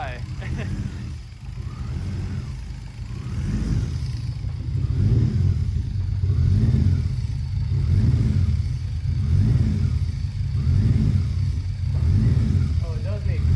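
A turbocharged BMW E36 engine running after starting: a steady low idle rumble with rhythmic swelling pulses every second or so, heard close up with people talking nearby.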